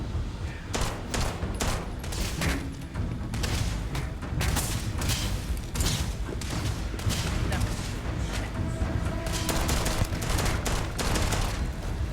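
Continuous rapid gunfire in the video game Starfield, dense overlapping shots and bursts that keep going throughout while a fight with robots plays out, with occasional voices underneath.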